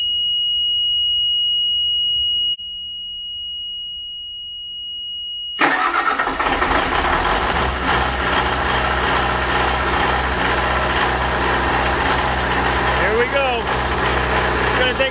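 An Onan DJC diesel generator set cranks and fires abruptly after a quiet stretch with a steady tone, then settles into a loud, continuous idle close by.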